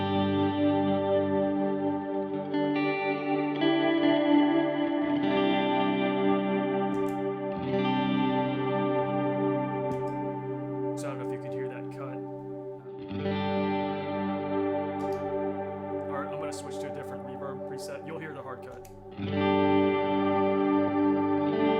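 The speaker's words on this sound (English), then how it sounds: "So here's plate swells." Plate reverb swells from a Strymon Tempus pedal on electric guitar, sustained chords blooming and washing over one another in long, loud layered pads with no one speaking.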